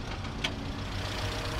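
A 1990 Toyota Corolla AE92 engine with automatic transmission idles with a steady, low mechanical hum, close by and constant throughout.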